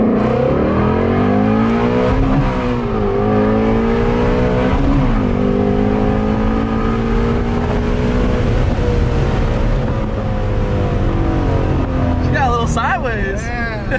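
Ford Shelby GT350 with the Voodoo V8 and stock exhaust accelerating hard, a loud, continuous engine roar with rising and shifting pitch through gear changes, heard from inside the car under talk.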